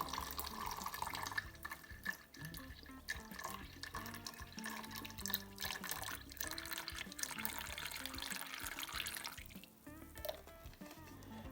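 Stock EM liquid is poured into warm water while mixing Multi-EM, producing close trickling, splashing and dripping that runs continuously over a low background and never drops out.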